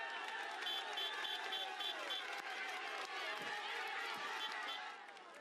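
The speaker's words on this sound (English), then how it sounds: "The crowd is in a frenzy." A dense roadside crowd at a 2012 Tour de France stage finish roars and cheers steadily, with loud, continuous hubbub and shouting throughout, easing slightly at the very end.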